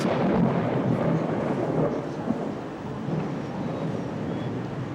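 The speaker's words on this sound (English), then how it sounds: "watch it snow and thunder and lightning all at the same time" Thunder rumbling through a 1993 blizzard snowstorm in Chattanooga, Tennessee: a steady, loud low roar with no sharp crack, lasting about five seconds.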